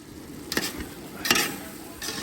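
Wine added to risotto Milanese in a pan gives a soft, close sizzle broken by three short stirring scrapes spaced evenly apart.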